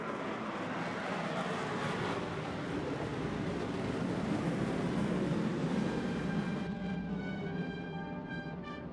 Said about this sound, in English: The B-1 Lancer, or the Bone as it is known, look at this.